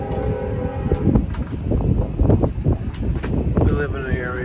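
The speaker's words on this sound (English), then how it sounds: "Do you guys hear that train?" A freight train rumbles past nearby with a steady low roar and clanking, a horn-like tone sounding near the end, while someone talks over it.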